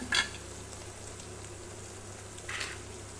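Goat brain pieces frying in spiced oil with ginger-garlic paste, a quiet steady sizzle with two brief crackling spurts near the start and end, close by and without speech.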